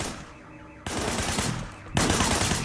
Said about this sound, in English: Shooting at the guys over there.